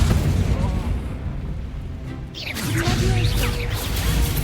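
An Incendio fire spell lands in the game Hogwarts Legacy with a loud whooshing burst and a rumbling crash, over dense, busy combat noise.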